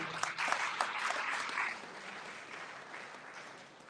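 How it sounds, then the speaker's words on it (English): Audience applause at a Knights of St. John International symposium in the Philippines, a dense burst of clapping that swells early and then tapers steadily over about four seconds. "A round of applause for him."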